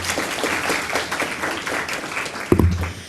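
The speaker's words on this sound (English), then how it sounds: "Let's give her another round of applause" Audience applause at a community resource fair and symposium, a dense wash of clapping filling the hall for about two and a half seconds before a louder thump and low hum cut in near the end.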